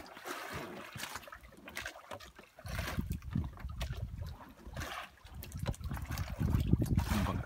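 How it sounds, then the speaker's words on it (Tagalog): Pacific Ocean waves slap against the floats of a small fishing boat. The water laps and splashes softly and irregularly, with gentle surges and trickles and no talking. "wala kang maririnig dito kundi yung hampas ng alon sa mga"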